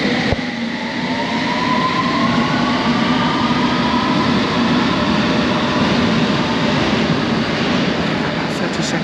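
London Underground platform on the Metropolitan Line with a train running nearby, a loud, steady rumble and rolling roar filling the space throughout, with a faint rising whine, no talking.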